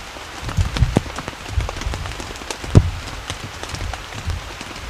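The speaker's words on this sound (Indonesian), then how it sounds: "Hujan masih turun kencang banget" Heavy rain falls at night on a camping shelter in a steady patter, with scattered louder drops and thuds close by and no talking.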